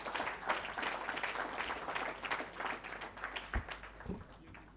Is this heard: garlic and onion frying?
no